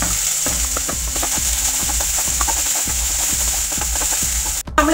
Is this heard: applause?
no